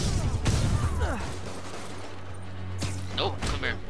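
Enemy gunfire in Marvel's Spider-Man comes as a few sharp cracking bursts among thuds and whooshing game effects, a loud shot near the start and another near the end, while a player talks excitedly over it.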